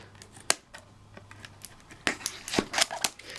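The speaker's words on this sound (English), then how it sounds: "I'll open it up with my scissors." Scissors cut open a Japanese Megalo Cannon trading card booster box with a few sharp close snips, a quiet pause, then a quicker burst of clipping and crinkling, all without talk.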